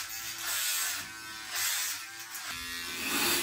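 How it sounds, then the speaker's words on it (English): Electric hair clippers buzz steadily through a home lockdown haircut, a loud continuous whine that dips and swells slightly as the blades pass over the head, with no talking. "shave my hair."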